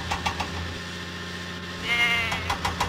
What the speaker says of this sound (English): Thomas must deliver the goats to Farmer McCall's farm.